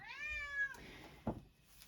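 A pet cat gives one clear, fairly close meow lasting about half a second, followed by a soft rustle and a brief muffled thump in an otherwise quiet room.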